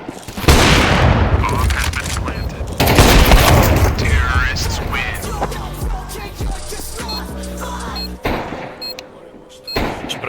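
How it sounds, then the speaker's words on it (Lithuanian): Gunfire and explosions in the video game Counter-Strike 2 on the Mirage map, loud bursts of shots and booms in the first half, then quieter game sounds and clicks, with players talking throughout. "Iš pradžių pagalvojau po pirmo šūvio, kad Simplas atgimė."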